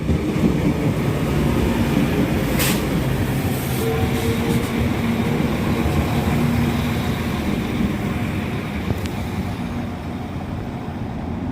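A Northern passenger train, a class 195 unit, pulls into platform 2 at Preston station, a steady close rumble of wheels and carriages with faint rail squeals and clicks under it.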